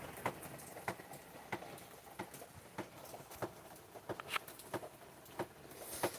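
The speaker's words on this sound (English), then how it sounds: "A big part of the storm hasn't hit us yet. Just getting some rain." Quiet, steady patter of rain at night ahead of a storm, with scattered louder drips landing on a hard surface at irregular intervals and no thunder.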